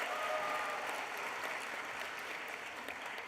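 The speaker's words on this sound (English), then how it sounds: "I would like you all to clap and cheer as loudly as you possibly can" Graduation guests and graduates clap and cheer together at a business institute ceremony, a dense, steady wash of applause filling the whole stretch, loud at first and easing only slightly toward the end.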